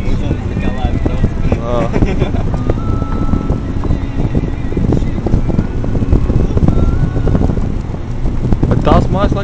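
A boat moving through flood water, its motor droning steadily up close with heavy wind buffeting the microphone and water splashing throughout, no talk standing out.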